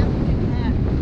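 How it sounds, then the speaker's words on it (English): Strong wind buffets the microphone on an ocean beach during surf fishing for false albacore, a steady, loud roar that fills the whole moment with no break. "Dude, it is so windy."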